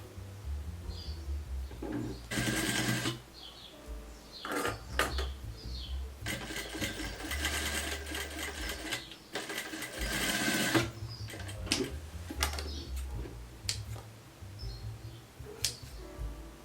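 A sewing machine stitches a seam on beginner-style wide-leg trousers in close, repeated bursts of fast needle clatter, broken by short pauses with small clicks and fabric handling.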